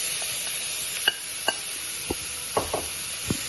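Salmon cooks in a dry pan with no added oil, giving a constant faint sizzle under a few soft taps and scrapes of a spatula.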